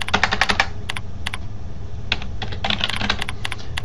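Quick bursts of keystrokes on a computer keyboard as a username and password are entered, close and crisp, with short pauses between clusters of taps.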